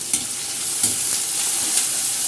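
Long-sliced onions hit hot oil in a pan for a bitter gourd dish, giving a loud, continuous sizzle with a few sharp stirring scrapes and spatters up close.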